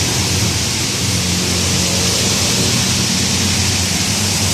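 Heavy rain from a storm pours down on Ratchada Road in Bangkok in a dense, unbroken roar, loud and close, with a low rumble underneath throughout.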